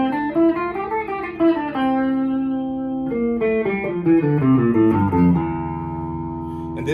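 An electric guitar plays an E Locrian run of single notes, then strums and lets ringing chords sustain, clear and close with no voices.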